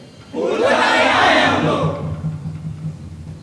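A crowd of villagers clamouring together in a Hindi stage play, a sudden swell of many shouting voices that holds for over a second, then thins into a lower murmur with a steady hum beneath.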